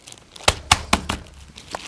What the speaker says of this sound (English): we're putting it in a plastic bag